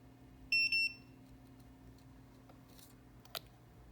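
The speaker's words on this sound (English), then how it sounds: "That's now it's done. You can hear beep beep." A craft device for applying fusion ink and transfer foil gives a quick pair of high electronic beeps signalling it is done, faint against a quiet room hum, with a small click later.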